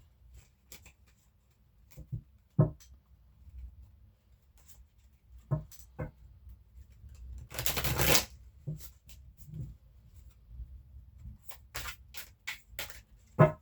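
Tarot cards are shuffled and handled by hand, with soft riffles and taps, a louder burst of rapid shuffling midway, then scattered crisp snaps and flicks near the end, all close and quiet with no talk.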